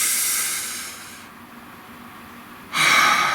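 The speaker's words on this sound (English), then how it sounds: "Take a nice deep breath." A slow, deep breath drawn in with a soft hiss, a quiet pause, then a louder breathy exhale, close and alone.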